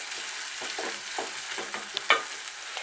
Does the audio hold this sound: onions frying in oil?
yes